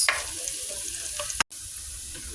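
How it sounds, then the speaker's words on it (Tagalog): Garlic and onion sauté in a hot pan for a bittergourd-with-eggs dish, giving a loud, steady close sizzle with light stirring scrapes and a brief break near the middle, no voices. "igigisa na natin yung ating bawang at sibuyas"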